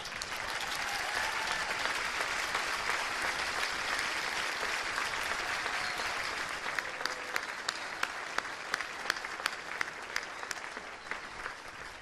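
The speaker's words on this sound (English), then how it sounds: "please take a theatrical bow as we applaud your efforts" An audience claps steadily for several seconds, a dense wash of applause with a few sharper individual claps standing out toward the end.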